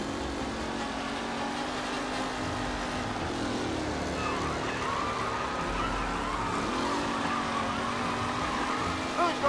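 A race car speeding in the video game Mafia, a steady droning engine roar with shifting pitch sustained throughout and moderately loud, with faint talk underneath.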